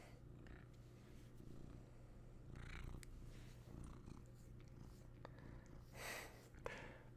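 A pet cat purring close to the microphone, a soft continuous rumbling throb with faint snuffles and small rustles, quiet and steady throughout with no talk over it.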